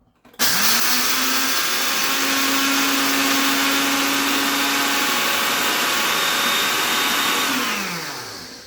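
A Ninja blender runs with its attachment fitted rather than the blender cup, giving a loud, steady motor whine for about eight seconds before the pitch drops as it spins down. No one speaks.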